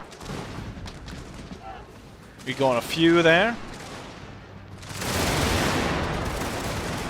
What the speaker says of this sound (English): this unit is now firing upon the enemy